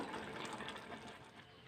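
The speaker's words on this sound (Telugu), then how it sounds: "దీన్ని ఒక జల్లి గిన్నెలోకి వంపుకుంటున్నాను" Faint, steady rush of water pouring and draining away as boiled cabbage is tipped into a colander, a continuous soft gush with no voices.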